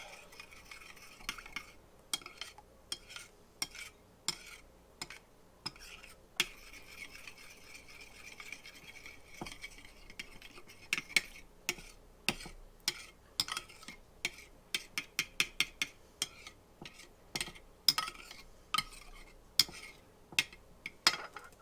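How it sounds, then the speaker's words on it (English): A sauce with sesame oil being stirred in a bowl, with quiet scraping and rapid light taps of the utensil that quicken toward the end. "of sesame oil. Give that a good mix."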